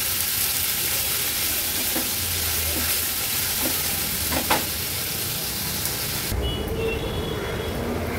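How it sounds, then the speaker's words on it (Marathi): Chopped onion with crushed ginger, garlic and chilli fries in hot oil over a low gas flame, giving a steady close sizzle with a few soft stirring clicks. Near the end the sound thins out. "गॅसची फ्लेम लो करून कांदा आपल्याला शिजवून घ्यायचा आहे।"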